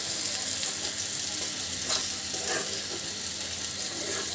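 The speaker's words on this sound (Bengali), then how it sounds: "পেঁয়াজটা খুব ভালো করে ভাজি করে নিব" Onions frying in oil with garlic in a village kitchen give a steady, close, dense sizzle that holds evenly throughout, with faint stirring underneath and no voices.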